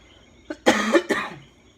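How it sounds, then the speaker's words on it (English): A short burst of coughing close by: a small hack followed by two harsher coughs, trailing off into quiet. "Yes, I'm nursing another cough."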